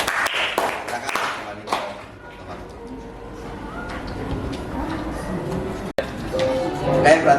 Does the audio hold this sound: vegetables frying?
no